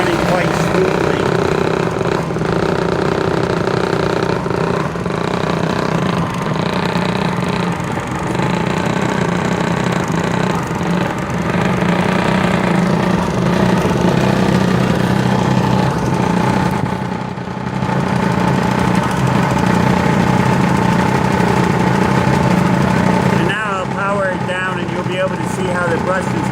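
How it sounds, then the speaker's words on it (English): A 1903 Century half-horsepower repulsion-start induction electric motor runs steadily with a loud, dense hum and mechanical whir, close by, with no breaks. "the motor itself has very good bearings and it's running quite smoothly"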